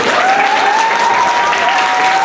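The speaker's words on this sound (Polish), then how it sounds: "Duże brawa." A crowd at a school carnival ball claps steadily and warmly throughout, a dense, even burst of applause with no pauses.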